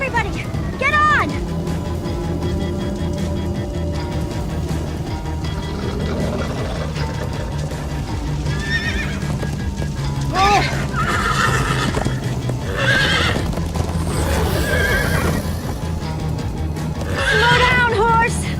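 Horses neigh and whinny repeatedly with clip-clop hooves while galloping in Minecraft: Story Mode, loud and close, with people talking over the action.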